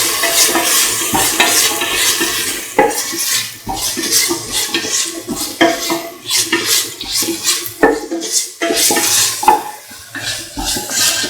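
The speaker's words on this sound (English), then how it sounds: "Keep on sauteing." Carrots and rice saute in a hot pan with repeated loud stirring scrapes and clinks over a continuous sizzle, in an irregular rhythm of close kitchen strokes.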